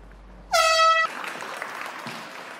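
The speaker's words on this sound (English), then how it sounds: "until we hear the horn" An air horn marks the end of a round in a UFC fight at UFC Vegas 32, sounding one loud, sustained blast of about half a second before giving way to steady arena ambience.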